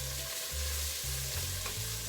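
Garlic and ginger sizzle in a pot while being stirred for a vegan coconut lentil soup, with steady frying hiss and several scraping stir strokes in an even rhythm, close and moderately loud, no talking.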